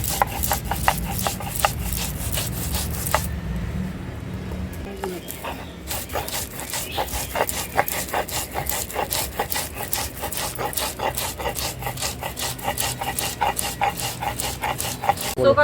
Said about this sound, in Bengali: এখানে তিল আছে, তিলটাকে এখন বেটে নেব।